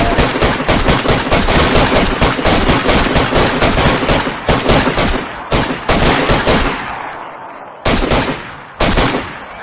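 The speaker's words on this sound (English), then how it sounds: "Nope, I'm shooting." Dense automatic gunfire in the DayZ video game, loud, close bursts of shots rattling almost continuously for several seconds, then breaking into short separated volleys with brief gaps of quiet.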